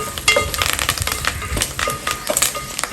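Curry leaves hit hot tempering oil for a temple-style puliyodharai tamarind rice, giving a loud, crackling sizzle with sharp spitting pops and stirring clatter, close up and without speech.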